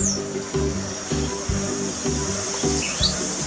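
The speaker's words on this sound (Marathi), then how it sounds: "खूप सारे पक्षी येतात इथे आणि मग निघून जातात" Birds chirp in short, high calls over a steady background of rhythmic, low-pitched pulsing, with no talking.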